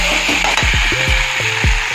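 Hot water hits a pan of frying fish curry with taro, making a loud, continuous hiss close by, with low bubbling surges rising through it.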